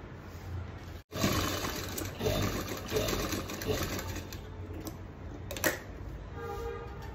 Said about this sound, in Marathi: अशा पद्धतीने शिलाई मारून घ्यायची आहे पाव पाव इंचाची